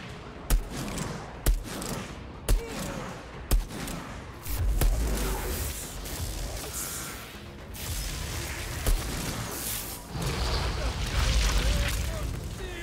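Gunfire in the video game Outriders: four sharp, loud shots spaced about a second apart, then a dense, sustained barrage of firing and game action noise running to the end.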